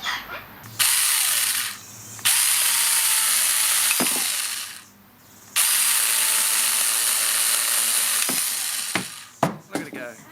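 A small Banggood 18V battery chainsaw whines at high pitch in bursts, revving up and dropping off several times, close and loud, with clicks and a few sharp knocks near the end.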